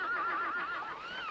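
A horse neighs in a single short whinny with a wavering pitch, heard fairly faint and on its own.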